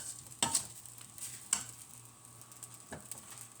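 Sinangag fried rice is being stir-fried in a pan, giving a soft steady sizzle punctuated by a few sharp scrapes and clinks of the utensil, close and quiet.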